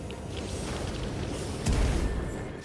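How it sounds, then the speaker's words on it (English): A big explosion in the video game Titanfall 2 booms out at about 1.7 seconds, a deep low rumble swelling over the game's steady background noise and then slowly fading. "Explosion range is crazy."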